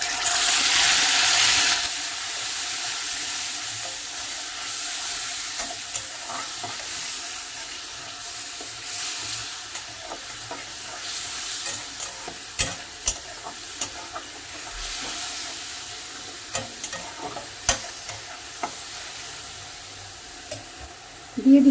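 Mixer-ground paste of two medium onions hits hot oil with a loud initial sizzle, settling into a steady crackling hiss with intermittent spoon scrapes and taps on the pan.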